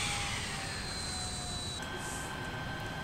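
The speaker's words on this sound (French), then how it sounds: "Et on est bon pour l'arrêt de nos deux moteurs." Both turboprop engines of a Shorts 330/360 airliner spool down after shutdown in Microsoft Flight Simulator, a steady engine roar with whining tones slowly falling in pitch, no voices.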